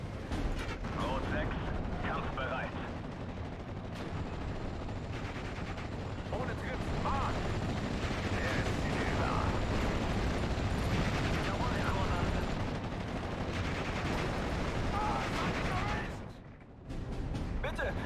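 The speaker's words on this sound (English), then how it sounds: "get the Jagdpanzer to engage that Sherman up on the hill" Tank and gun fire in the WWII strategy game Steel Division: Normandy 44, with a Jagdpanzer tank destroyer engaging a Sherman on a hill; continuous dense battle noise of shots and booms, fairly loud, with some voice mixed in.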